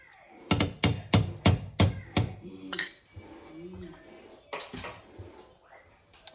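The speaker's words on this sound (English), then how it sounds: "I'm going to go ahead and mix this and kind of keep stirring it" A utensil knocks and scrapes against a pot while stirring sour cream into a flour, butter and milk sauce, a quick series of sharp clinks followed by softer scraping and a few later taps.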